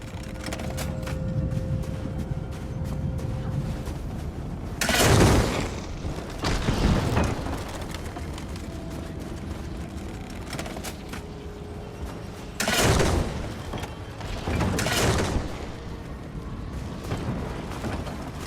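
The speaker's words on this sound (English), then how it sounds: "Find some ballista parts nearby and use them to fire on the last pylon!" Heavy ballista shots fire at a pylon during the Writhing Wall event in ESO. Two pairs of deep booming impacts sound over a constant rumbling battle background, each burst loud and resonant.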